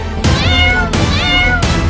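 A kitten gives three loud, close meows in an even rhythm, each a drawn-out, wavering cry.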